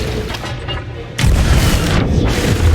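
Ship cannon fire in the pirate video game Sea of Thieves, a loud booming blast with a heavy low rumble that holds steady for about a second and a half after the shot.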